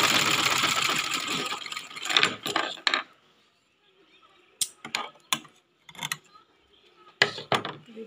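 Electric sewing machine stitching along the edges of a petticoat: a sustained whirring run up close, then short bursts of stitching separated by quiet pauses, with faint handling clicks.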